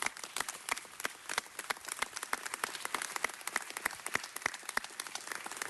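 Audience applause at a city council meeting honoring the Watts Gang Task Force, a sustained patter of many hands clapping with distinct sharp claps standing out, moderately loud and steady throughout.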